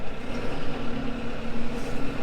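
Case Luxxum 120 tractor engine running close by, a steady low diesel drone with a faint hum, pulling away in forward gear without a clutch.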